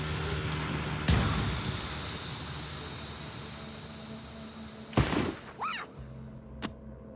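Car in the Just Cause video game, driving with a steady engine and road roar, a sharp crashing impact near the start and another loud crunching hit near the five-second mark, followed by smaller thuds.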